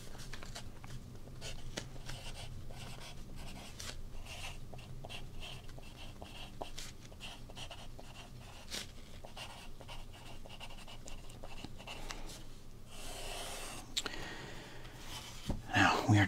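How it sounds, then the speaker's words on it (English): Pen writing on paper while noting sports card prices, a soft steady scratching that runs nearly throughout, close and quiet, with a few rustles near the end. "Let's write this down"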